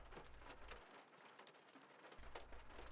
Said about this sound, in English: Oh, I love a good rain.